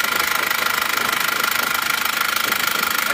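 Isuzu Panther diesel engine idling while hot, a steady close mechanical rumble with fast even knocking pulses throughout, loud and alone without talk.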